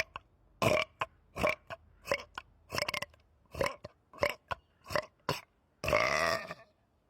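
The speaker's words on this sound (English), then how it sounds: "this one I call burp breath with that burping in technique" Deliberate burping-in technique: about a dozen short, close, forceful burps in a loose rhythm, ending with a longer, drawn-out belch.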